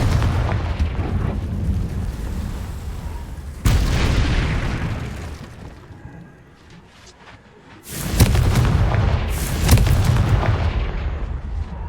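A Confringo fire spell from Hogwarts Legacy bursts into booming explosions, with one heavy blast, a fading rumble and hush, then a second burst of louder cracking impacts, near and powerful.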